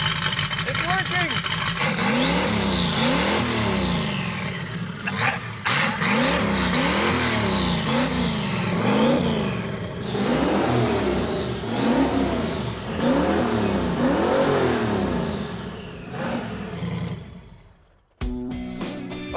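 An old Rotsun car engine fires up and runs, revving loudly in repeated rising and falling surges close by, with people talking over it before it cuts off abruptly near the end.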